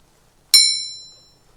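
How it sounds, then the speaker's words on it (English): A bell in the video game Disco Elysium rings once with a sharp, bright strike and a long, clear ringing tail that fades over about a second, with nothing else around it. "How does the bell have such a good sound though?"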